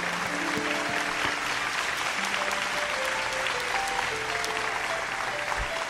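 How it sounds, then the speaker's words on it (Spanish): Sustained applause from a live audience at a Christian salsa concert in Medellín, Colombia, dense and steady throughout with faint musical tones beneath. "Y hay que dar un fuerte aplauso a eso."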